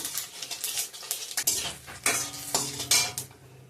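Dry red chillies, bay leaves and whole cumin dropped into hot oil, with clinks of a metal spoon against the pan and short bursts of sizzling, close and fairly quiet, no talk.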